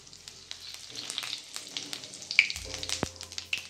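Cumin seeds hit hot oil in a wok of eggplant curry and sizzle steadily, with crackling pops and spits running throughout, loud and close.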